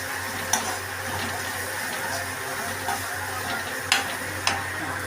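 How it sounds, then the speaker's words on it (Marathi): A spoon stirs turmeric into a simmering drumstick pod curry in a pan, with a steady close sizzle and a few soft scraping taps against the pan. "आता हळद टाकले. असं ढवळून घ्यायचं."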